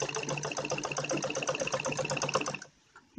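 A sewing machine stitches a back zip into a kurti in a fast, even run of needle strokes, close and clear, then stops abruptly near the end.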